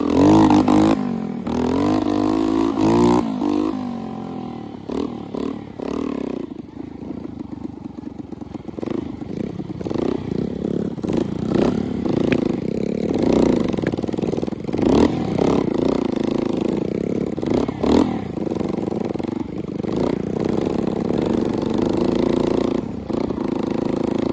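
Homemade bicycle moped fitted with a moped engine, riding along with the engine loud and close, rising and falling revs, rattling clatter and bursts of acceleration.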